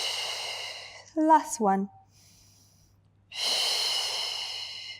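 Long, steady exhaled breaths during a Pilates stretch, two broad airy swells on either side of a brief spoken instruction, close and fairly soft.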